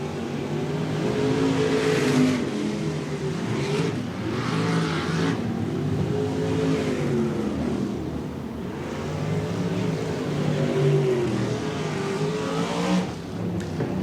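Sprint cars race at Stuart Raceway, their loud engine roar running continuously, with pitch swelling and falling as the cars pass.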